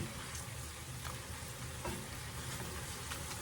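Shrimp sizzle and crackle in a hot pan as they are stirred, with a steady hiss of frying and a few soft scraping touches of the utensil. The sound is fairly quiet and close, with no voices.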